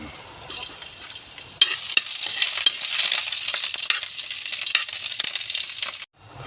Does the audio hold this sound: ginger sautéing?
yes